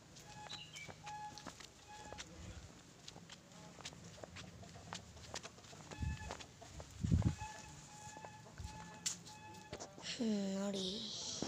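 Chickens in Badgere village cluck intermittently among scattered farmyard noises, with people talking nearby and a louder bird call near the end.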